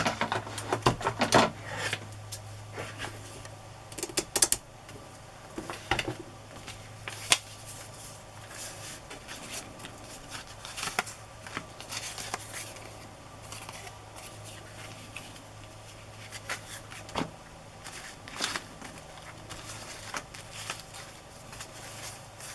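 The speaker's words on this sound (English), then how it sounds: "Fabric scissors." Fabric scissors snipping while crafting a paper journal with wrapping paper: scattered close crisp clicks and rustling paper handling, irregular over a long stretch, with quiet room tone and no talking.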